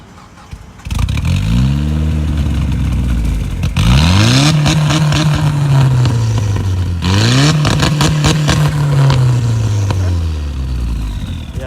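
A turbocharged car engine with a tiny turbo and a hood-mounted exhaust revs hard from close by, rising in two long sweeping pulls that fall back between them, loud and raw with no talking.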